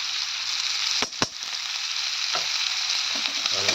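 Coriander powder and ginger paste frying in a pan, a steady hissing sizzle broken by a couple of sharp clinks of a utensil near the start, close and continuous.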